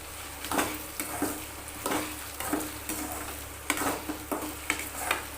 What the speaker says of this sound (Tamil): இந்த சின்ன வெங்காய வச்சுருக்கோம் இல்லையா தொளிச்சு அதை போட்டு அது கூடயே வதக்கிக்கலாம்